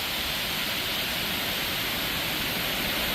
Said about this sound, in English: This is the water coming over the dam of my training spot